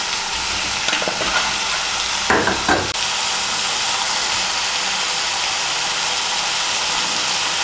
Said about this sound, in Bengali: এখন এর মধ্যে আমি দিয়ে দেবো ভেজে রাখা বেগুনগুলো